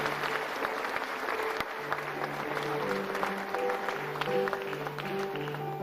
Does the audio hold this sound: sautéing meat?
no